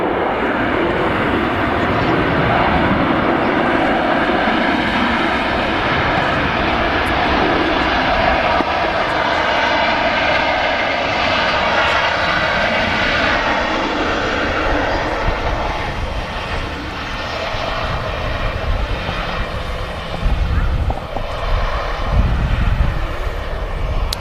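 A Boeing 737 on the tarmac at Manchester Airport gives a steady, continuous jet engine roar with broad whining noise, loud and sustained throughout.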